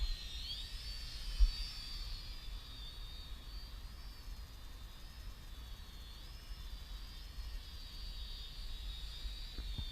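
The motors of a HAK 908F drone hover outdoors in a breeze, a faint, steady high-pitched whine that wavers slightly in pitch over a low rumble of wind.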